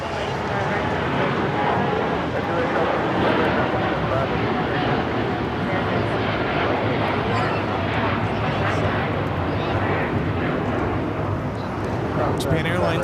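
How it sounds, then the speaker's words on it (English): Japan Airlines Boeing 787-9 Dreamliner taking off from runway 25 right at LAX, a steady broad engine roar holding level and loud throughout, with a voice talking over it. "Japan Airlines Flight 61 taking off to Tokyo Narita on a 787-9 Dreamliner"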